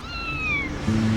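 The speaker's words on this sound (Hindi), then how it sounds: "हाँ, लगता है शायद कोई बिल्ली है।" A single drawn-out cat meow, clear and fairly close, sliding downward in pitch before fading.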